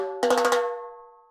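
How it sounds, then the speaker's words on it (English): A timbale from a Latin percussion sample pack struck in a quick double hit, a flam of two close metallic strikes that ring out and fade over about a second, bright and close, with no talking. "Like you've got what's called like a double hit or a flam"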